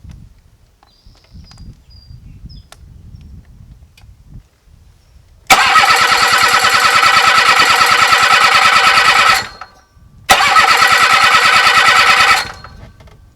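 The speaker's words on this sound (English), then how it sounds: "let's start them up and see what these rotaries sound like" Hercules W2000 and Suzuki RE5 rotary motorcycle engines are started: after quiet fiddling, a starter motor whirs loudly for about four seconds, stops, then cranks again for about two seconds, close by.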